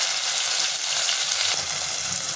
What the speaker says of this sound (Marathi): त्याच्यामध्ये आपण एक कांदा चिरून घेतलेला आहे आणि टोमॅटो ते आपण परतून घेऊया